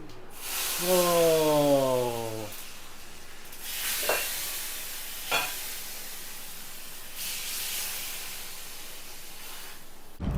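A phodni tempering for Kerala mango curry crackles in hot oil, giving a broad, steady hiss that swells in several bursts. A voice is briefly heard near the beginning.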